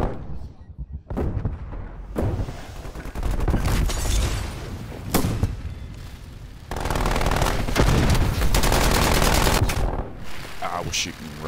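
Gunfire in Call of Duty Black Ops Cold War: loud bursts of automatic fire and heavy booming shots, with near-continuous shooting in the second half and a player talking between volleys.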